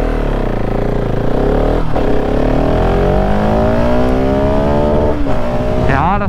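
A Husqvarna 701 motorcycle accelerates hard and loud, its engine note climbing steadily, with quick upshifts briefly breaking the rising pitch before it climbs again.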